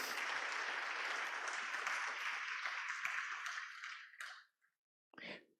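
A church congregation applauds loudly and steadily for about four seconds, then the clapping fades out, followed by a brief final burst of claps.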